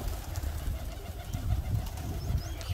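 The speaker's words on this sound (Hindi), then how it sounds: "अभी वो सारे कबूतर उड़ा दिए" Pigeons from a loft are released and take flight together, with soft cooing and wing flapping mixed into steady low outdoor noise, fairly faint throughout.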